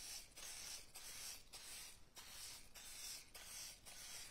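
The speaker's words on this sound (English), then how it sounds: "I am going to spray my mini muffin pan." Cooking spray hisses onto a mini muffin pan in a series of short bursts, about seven quick sprays with brief gaps between them, close and soft.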